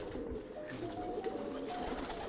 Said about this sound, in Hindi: मेरे हाथ में जो कबूतर है